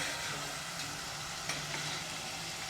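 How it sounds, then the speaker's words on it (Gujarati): Onion, ginger and garlic paste sautés in a pan for a Gujarati curry, giving a steady, soft hiss of frying with faint stirring scrapes. "આપણી ડુંગળી આદુ લસણ બધું આપણું સરસ સતળાઈ ગયું છે"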